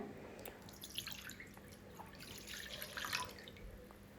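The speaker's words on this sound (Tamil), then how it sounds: "இந்த 200 எம்எல்லையும் ஒரு பால் பாத்திரத்தை எடுத்து அதில் நான் ஊற்றிக்க போகிறேன்." About 200 ml of a homemade hair mix is poured into a milk pan: a quiet trickle and drips of liquid with no voices.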